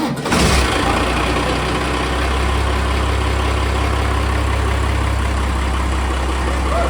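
A Cummins diesel engine in a limousine build cranks and catches within the first half second, then settles into a loud, steady low idle that rumbles on without any talk.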